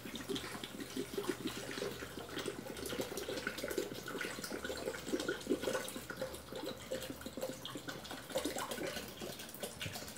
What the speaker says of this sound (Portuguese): Vou colocar 1 litro de água.